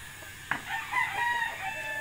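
A rooster crows once, its call rising and trailing off over a faint steady background hum; a fighting rooster.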